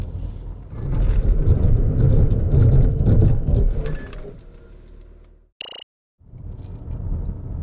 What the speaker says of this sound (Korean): RAV4 하이브리드 과연 제동 성능은 어떤지 한번 볼까요?